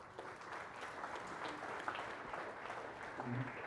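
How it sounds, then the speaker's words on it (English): Applause from the audience at a leadership talk about communicating and connecting, a steady, fairly faint wash of clapping that runs through the whole stretch with some murmuring mixed in. "So give yourself a big round of applause, please"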